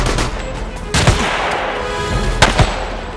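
Soldiers open fire in a Chinese war film about a sniper, a continuous volley of loud gunshots with heavier bursts standing out near the start and again toward the end, dense and close throughout.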